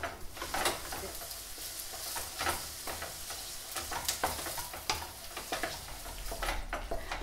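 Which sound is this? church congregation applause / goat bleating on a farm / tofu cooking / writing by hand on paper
tofu cooking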